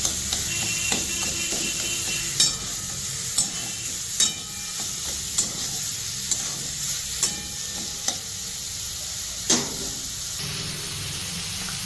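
Spices and turmeric sizzle steadily in a hot pan while a spoon scrapes and stirs, with sharp clicks of utensil against metal every second or so; close and continuous, no talking.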